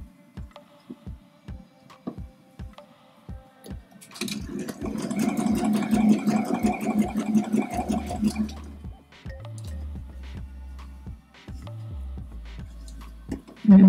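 A sewing machine stitches a jacket in a steady, fast mechanical rattle lasting several seconds. Softer clicks and ticks come before and after it, and the sound is fairly close.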